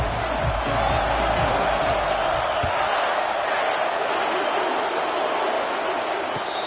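A large stadium crowd roars steadily, a dense wash of cheering and shouting held at a constant level throughout, with a few thuds early on.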